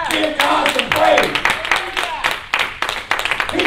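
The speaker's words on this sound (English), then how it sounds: "Come on, clap those hands." Church congregation clapping hands in praise during a morning worship service, a steady run of sharp claps spread across the room, loud and close, with voices mixed in throughout.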